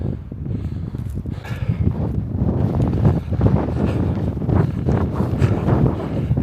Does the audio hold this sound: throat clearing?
no